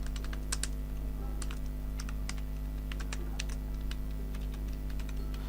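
Rapid keyboard typing on a computer keyboard: steady, irregular clusters of close clicks and key taps over a constant low hum, with no voices.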